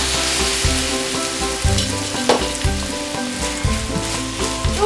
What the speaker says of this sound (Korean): 조금만 볶아주세요. 살짝.